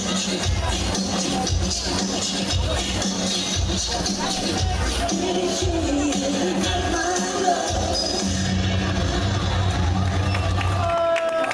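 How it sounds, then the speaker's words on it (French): A festival crowd cheers, whoops and claps steadily throughout at an open-stage show for a Michael Jackson impersonator, loud and dense with scattered shouts rising over the din. "un tonnerre d'applaudissements pour Sébastien, fan de Michael Jackson."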